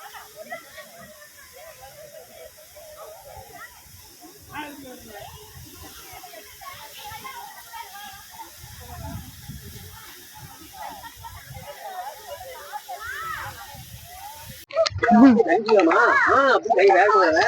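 Water gushing at Sathanur dam, a steady hissing rush that carries through the clip, with people chatting nearby and a louder burst near the end.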